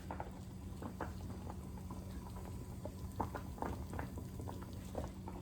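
A quiet, steady bubbling of water simmering in a pot of pork chops, with soft irregular pops throughout and no voices.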